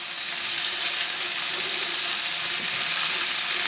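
Tofu pieces fry in hot oil in a pan, giving a steady, dense sizzle that runs unbroken and fairly loud from start to finish with no voices.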